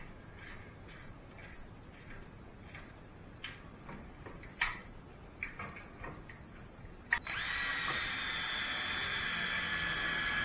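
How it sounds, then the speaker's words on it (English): Power drill running continuously while drilling and bolting plywood onto a trailer being converted from a camper, starting after several short ticking knocks and a sharp click. "right now just drilling and bolting the plywood."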